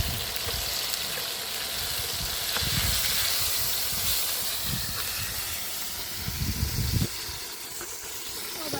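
Chicken pieces frying in hot oil in a pan, a steady hiss and sizzle with occasional clatter and louder bursts as the meat is turned over, close and continuous.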